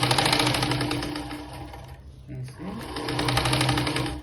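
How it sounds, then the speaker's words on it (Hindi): Sewing machine stitching the neckline of a belt-style blouse, a loud, close rhythmic whirr that runs nearly throughout with a short dip midway, while someone speaks over it. "ये अब फिर से सेम गला में सिलाई लगानी है"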